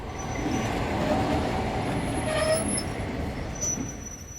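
Train wheels roll along rails as an audio drama sound effect, a continuous rumbling clatter with faint metallic squeals, steady and fairly close, with no talk.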